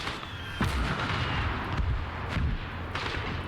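A tank's 152 mm gun fires in the Call to Arms battle game, with heavy booming blasts repeating at intervals over a dense rumble of distant battlefield noise.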